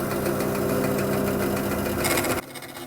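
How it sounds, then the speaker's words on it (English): Ferrex 10-inch band saw cutting a small piece of plywood, a steady, loud motor whine and blade buzz that rises briefly and then drops off sharply near the end. "So I'm just going to cut a small piece of ply."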